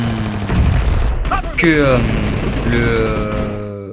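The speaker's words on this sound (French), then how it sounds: "là on est en train de tester la Vector" Vector submachine gun fire in the mobile game PUBG Mobile, loud rapid bursts of automatic shots with synthetic engine-like tones and ringing effects, close and continuous over about four seconds.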